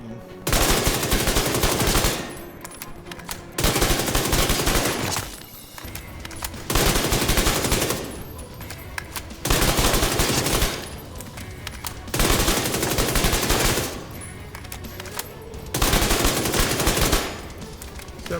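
Bursts of PP19 submachine gun fire in The Division 2, a rapid automatic rattle coming in six loud, sustained strings of roughly two seconds each, separated by short quieter gaps.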